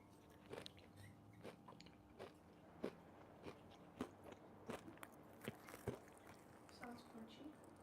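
Crunchy food eaten close to the microphone during a live chat, quiet repeated bites and chewing crunches at an irregular pace, faint and intimate.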